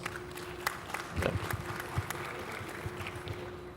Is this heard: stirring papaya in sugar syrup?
no